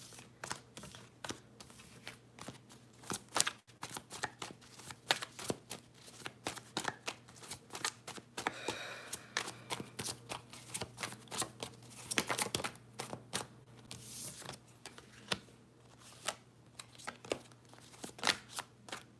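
A deck of tarot cards is shuffled over and over at close range, a long run of quick riffling snaps and soft flutters in irregular bursts, with no talking.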